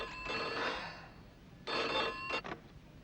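A telephone rings in an old Bollywood film scene, two bursts of electric bell ringing with a short pause between them, loud and close with no talk over it.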